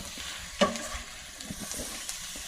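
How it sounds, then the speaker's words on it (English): Onions caramelizing in a pan are stirred, giving a soft sizzle with one sharp scrape or clink early on, followed by quieter light stirring sounds, close and fairly faint. "as you're stirring these, after they have been on for a while, you may want to flip them over"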